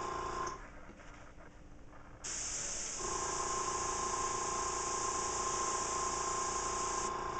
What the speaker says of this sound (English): I'm not worried about spraying over into the leg or over into the wing a little